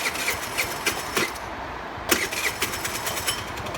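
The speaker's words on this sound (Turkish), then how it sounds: "karbüratörlü motosiklet olduğu için geç çalışması normal soğukken özellikle" A Kuba Blueberry 50cc carbureted scooter engine turns over cold with no throttle, coughing through a string of uneven starter bursts before catching into a rough, close-up sputter.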